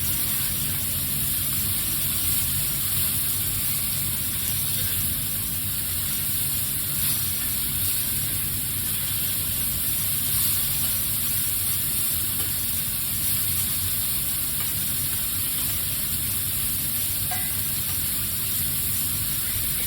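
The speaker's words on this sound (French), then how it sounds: "Je mets un petit peu d'eau froide pour décoller les sucres" Cold water hits a hot griddle plate to deglaze it after cooking chicken escalopes, making a loud, continuous hiss that holds steady and unbroken for about twenty seconds.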